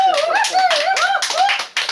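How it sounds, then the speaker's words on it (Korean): An audience claps at a poetry lecture revisiting Han Yong-un's poems, a dense, fairly steady patter of many hands lasting about two seconds, with high vocal sounds rising and falling over it. "박수 소리 지금 묘유하게 흘러갔어요"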